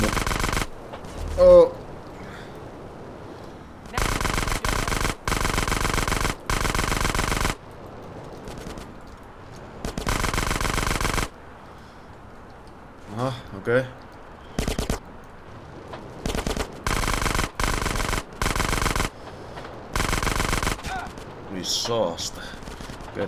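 Automatic gunfire in GTA San Andreas comes in repeated loud bursts of varying length separated by quieter gaps, with occasional brief voice sounds between volleys.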